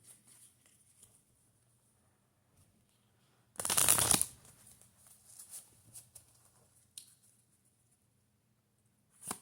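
A deck of love message oracle cards is shuffled in one quick, crisp riffle lasting under a second, followed by faint handling rustles and taps in an otherwise quiet room.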